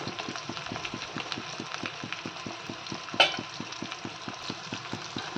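Chopped onions for chicken curry sizzle steadily in a hot pan, a close, continuous frying hiss broken by regular stirring scrapes and one sharp clatter partway through.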